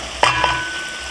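Onion and minced garlic hit melted French butter in a pan, a sharp sizzle bursting up and then settling into a steady close frying hiss, with a second smaller burst from added ingredients.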